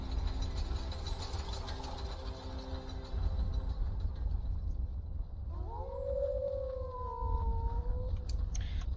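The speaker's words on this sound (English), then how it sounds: "Wolves." Wolves in the video game Skyrim howl partway through, with long, rising and falling wavering tones over a low, rumbling game ambience.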